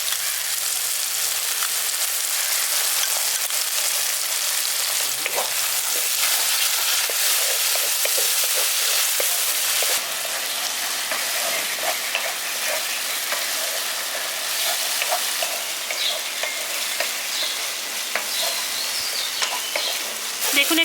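Ground spice masala and whisked sour yogurt sautéing for a village-style prawn biryani: a steady, loud hissing sizzle with scattered clicks of stirring throughout, alone without talk.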